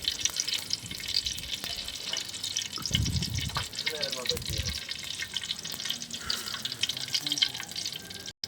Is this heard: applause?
no